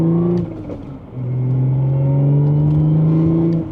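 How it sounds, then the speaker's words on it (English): Supercharged engine of a high-mileage 2016 Audi S5 B8.5 on a daily drive, a steady close droning hum with rising whine tones as it pulls, briefly dipping near one second before building again. "Hopefully you guys can hear that supercharger a little bit"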